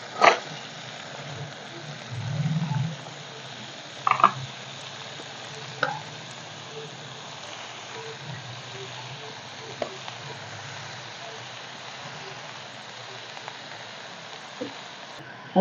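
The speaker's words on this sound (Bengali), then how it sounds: "এখন দিয়ে দিব কেটে রাখা লাউ" Chopped bottle gourd goes into a pan with chillies and spices for a fish-head lau ghonto, giving a soft, faint sizzle with occasional scraping stirs and clatter, mostly quiet throughout.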